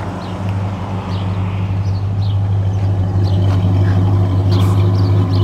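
A 1968 Ford Torino V8 with dual exhaust idles steadily nearby, a smooth, even low rumble that holds constant throughout, with faint birdsong in the background.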